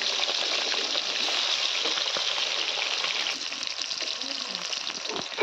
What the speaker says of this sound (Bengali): আগে মাছগুলো একটু ভাজা নিলাম।